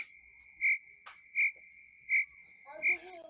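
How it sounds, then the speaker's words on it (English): Crickets chirp in regular, evenly spaced pulses, about one every three-quarters of a second, each a sharp, clear trill over a quiet background with a faint voice near the end. "Crickets."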